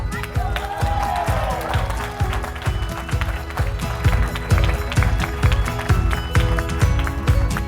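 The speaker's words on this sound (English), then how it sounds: "Let's give a round of applause for everybody." Applause for the winner of a Battle of the Chefs cooking competition: a dense, loud patter of many hands clapping steadily throughout, with voices mixed in.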